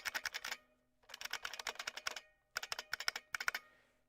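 Standard keys on an old Macintosh LC 475 keyboard rattle off in rapid runs of crisp, close clicks, three or four bursts with brief gaps, loud and isolated in a quiet room.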